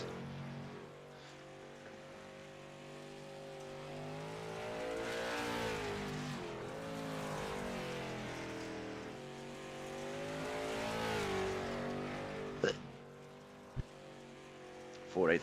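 A race car in iRacing revving and accelerating up to speed on track, the engine pitch climbing in long sweeping rises and falls, moderately loud and continuous, with brief clicks near the end.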